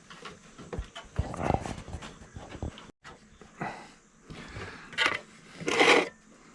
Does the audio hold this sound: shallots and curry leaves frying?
no